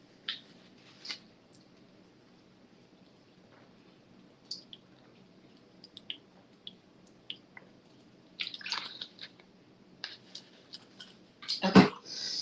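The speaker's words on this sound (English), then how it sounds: "Let me get a sip of water." Someone takes a drink of water, with quiet, sparse sips, small wet clicks and swallows against near silence, and a brief louder clunk toward the end.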